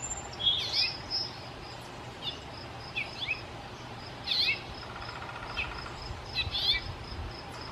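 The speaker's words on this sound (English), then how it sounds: "So here goes the house finch." A house finch calls in a series of short, bright chirping bursts spaced about a second apart, with a faint steady insect hum underneath.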